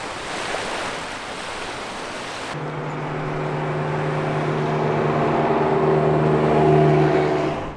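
A rental car drives in Hong Kong, with wind and road rumble at first, then a steady engine hum that slowly builds and rises in pitch as the car gathers speed, no talking.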